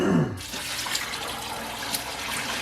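Liquid pours and splashes steadily as homemade apple cider vinegar is washed through, a close, continuous rushing flow like running water, with a short tonal sound at the very start.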